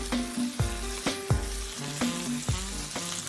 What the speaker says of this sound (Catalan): Fa uns 2 minuts que el plàtan es fregeix per un costat.